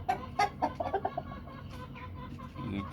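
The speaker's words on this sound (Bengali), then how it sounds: "এটা হচ্ছে আমার টাইগার মোরগ।" Tiger-breed rooster and hens on a rooftop farm cluck in a quick burst of sharp calls early on, then settle into quieter fowl murmurs and faint rustling, fairly close.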